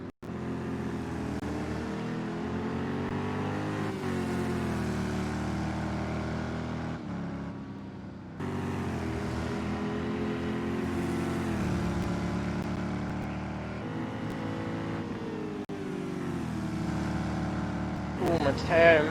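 Porsche GTE race car engine in Project Cars at Mount Panorama, Bathurst: a steady, droning motor note rising and falling through shifts, heard under ongoing race commentary.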